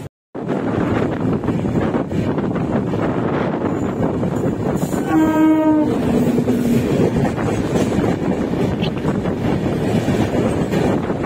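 Kolkata Bikaner Superfast Express rushing past close by with a steady heavy rumble and wind buffeting on the microphone, plus a brief horn blast partway through.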